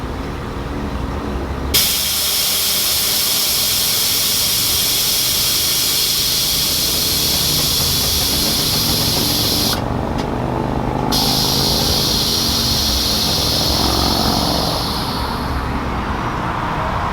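Air ride suspension on a 1972 Chevelle wagon letting air out as it lowers, a loud, steady hiss close by that runs for many seconds with a brief cut partway through, and no talk.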